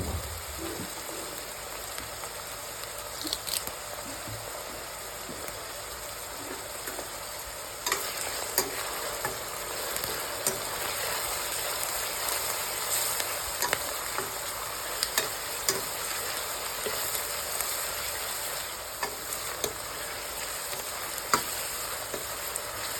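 Curry leaves frying in hot oil for a chicken gravy curry, a loud, continuous crackling sizzle with stirring scrapes throughout, close and steady with no talk.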